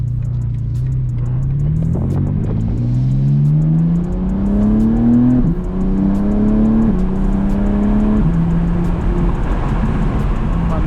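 A BMW G80 M3 fitted with catless downpipes pulls hard through the gears, its engine note climbing loud and close in rising sweeps broken by brief dips at each shift.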